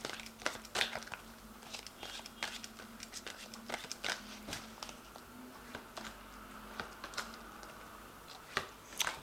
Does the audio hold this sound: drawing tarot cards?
yes